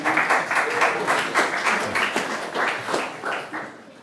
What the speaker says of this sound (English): I was not expecting applause during this